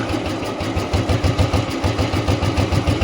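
A modified Royal Enfield Bullet motorcycle engine idles close by with a steady, rhythmic thumping putter that holds an even pace throughout.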